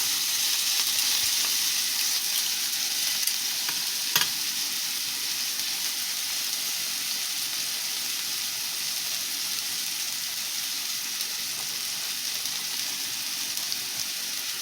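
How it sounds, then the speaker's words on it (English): Chicken breast sears in a hot pan after being flipped, giving a steady, close sizzle and crackle of frying that runs without pause, with one brief louder tap early on and no talking. "we'll go ahead and flip it over so we can get a good sear on the other side"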